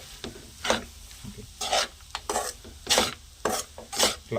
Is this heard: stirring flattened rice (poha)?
yes